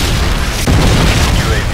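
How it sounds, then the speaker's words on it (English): A Predator missile explosion in Modern Warfare 2 lands as a single loud, deep boom about a third of the way in, with a dense rumbling roar carrying on behind it and a game voice talking over the mix. "Friendly Predator missile inbound."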